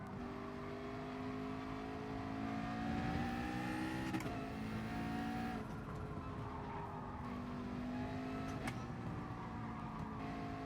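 A race car engine droning steadily at moderate revs in GT Sport during a gentle outlap, with smooth rising and falling pitch as it shifts gears, heard faintly and alone.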